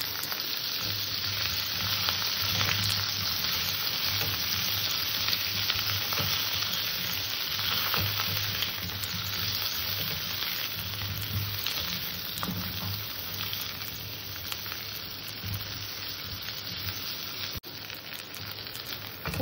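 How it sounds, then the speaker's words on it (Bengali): Pieces of pointed gourd fry in hot oil in a pan, giving a steady, even sizzle with a faint crackle. It carries on unbroken with a low background hum and no talking. "এই তেলের মধ্যে আমি পটল কটা ভেজে নেব।"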